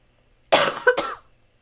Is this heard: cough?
yes